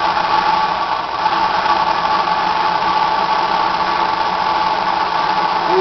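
A grinder sharpening spiral planer head knives against a stone in a woodworking shop, a continuous motor whine and buzz that stays steady and close for the whole stretch, with no talking.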